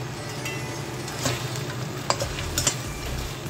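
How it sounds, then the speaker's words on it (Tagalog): Egg and bitter gourd being stirred in a sizzling pan, a soft steady frying hiss broken by a few sharp scrapes and clicks of a utensil, no voices. "Halo-haloin lang natin siya hanggat maano yung kanyang egg sa ampalaya"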